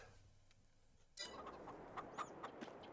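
Chickens clucking in Farming Simulator 22, several short faint clucks and chirps scattered after a sudden rise in ambient farmyard noise.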